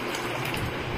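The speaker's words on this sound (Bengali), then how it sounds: "এই সসপ্যানে জাল দিব, এখানে ঢেলে নিচ্ছি।" Mango drink mixture for aam panna poured into a saucepan, a steady, dense liquid rush that fills the short moment evenly and close by, with no pauses.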